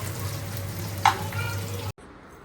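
Onions browning and frying in a pan with fenugreek, a steady close sizzle with a low hum beneath and a brief clatter near the middle, cutting off abruptly near the end.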